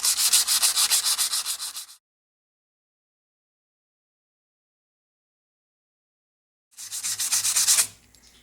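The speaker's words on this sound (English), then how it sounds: "Then I'll find a piece of scrap sandpaper" A pen blank rubbed by hand with a scrap of sandpaper: two bursts of fast, even, rhythmic rasping strokes, close and loud, separated by a long silence.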